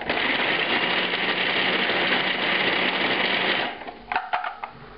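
A food processor grinds nuts for a Brussels sprouts salmagundi with a loud, close, steady motor whir that runs several seconds. It then stops and the blade and contents rattle briefly.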